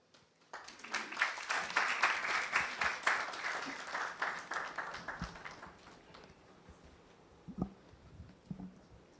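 An audience at a national science and maths quiz championship launch breaks into applause, a dense burst of clapping that builds for several seconds, then thins into scattered claps and fades out.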